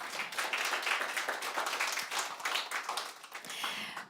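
An audience at a crypto-industry conference in Tallinn applauds, producing dense, continuous clapping of moderate loudness that holds steady for about four seconds without talking.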